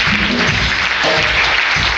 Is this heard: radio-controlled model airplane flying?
no